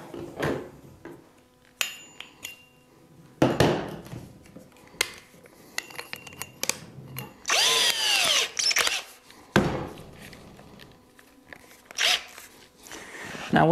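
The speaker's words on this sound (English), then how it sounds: "we are ready to get the drill set up and we can start drilling" Bursts of a power drill whirring in short runs as it drills into cooler foam, with scraping and rustling between them and a longer, louder stretch of grinding near the middle.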